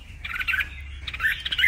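A caged red-whiskered bulbul (chào mào) calls close and clear, giving two bright, warbling bursts of chirps separated by a short pause over low background hum.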